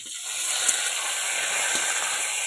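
Mustard seeds and curry leaves sizzle in hot tempering oil for a prawn and raw mango curry, a steady close hiss with faint crackles throughout.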